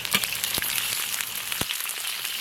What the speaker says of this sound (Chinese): 锅里倒点油，油后下入葱姜